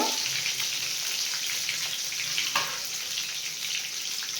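Cheese nuggets fry in hot oil, giving a steady, bright hissing sizzle that holds evenly throughout, with one faint crackle midway and no voices.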